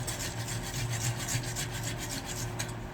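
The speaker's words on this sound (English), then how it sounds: "This is just one whole small tomato. Then grate it" A small whole tomato rubbed against a kitchen grater, a continuous rapid rasping scrape with regular strokes, close and fairly quiet, no talking.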